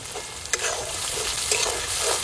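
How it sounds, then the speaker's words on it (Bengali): Chopped onion fries in a pan with cumin seeds and salt, a steady sizzle broken by a few soft scrapes of stirring, close and alone with no talk. "পেঁয়াজ একটু ভেজে নিয়েছি"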